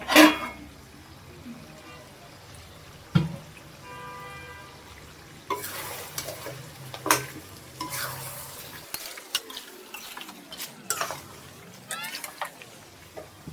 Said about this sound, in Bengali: এই পর্যায়ে আমি চুলার আঁচটা বাড়িয়ে মাংসটাকে ভালো করে নেড়ে চেড়ে নিব।